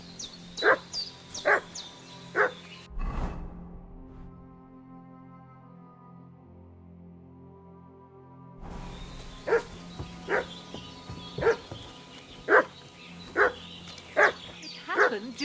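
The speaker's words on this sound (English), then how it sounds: "What's that dog making such a fuss about?" A dog barks in a fuss in Kingdom Come: Deliverance II, repeated sharp mid-distance barks in an uneven rhythm, broken by a loud thud and several seconds of low droning tone before the barking resumes.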